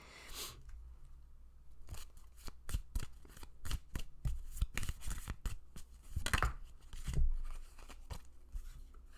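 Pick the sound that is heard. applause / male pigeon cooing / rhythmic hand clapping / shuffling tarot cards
shuffling tarot cards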